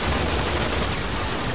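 Dense, continuous gunfire from the sci-fi video game Warframe during a survival mission, many weapons shooting at once in a steady loud barrage with no pauses.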